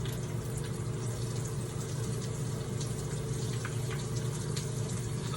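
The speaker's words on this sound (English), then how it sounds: "wash my hands" Tap water runs steadily into a sink during handwashing, a continuous close splashing flow with small bursts and drips and no talking.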